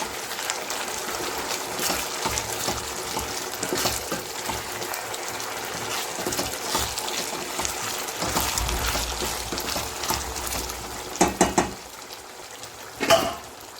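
Prawns sizzle in hot oil in a pan for a spicy prawn pickle, a steady crackling fry with a few sharp metallic clinks of utensil against pan near the end.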